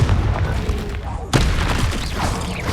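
Confringo fire-blast spell in Hogwarts Legacy: a sharp booming burst partway through, loud and close, over ongoing game noise.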